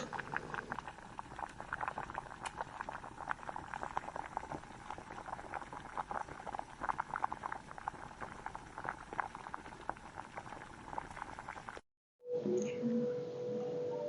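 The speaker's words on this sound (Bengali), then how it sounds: "এবার আমরা ঢেকে দিলাম, কারণ ডালটা বয়েল হওয়ার জন্য।" Moong dal with salt boiling under a lid in a pot, a steady close bubbling patter for about twelve seconds before a short break and a different, brighter tail.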